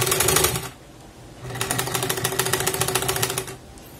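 Sewing machine stitching a seam on a quilted fabric project: a short burst of rapid stitching, a pause, then a longer steady run of fast rhythmic needle clatter, close and fairly loud with no talking.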